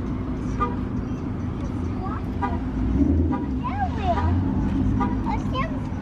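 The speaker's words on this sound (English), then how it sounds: "What car's making that noise?" A car horn honks amid steady traffic rumble, with people talking over the road noise.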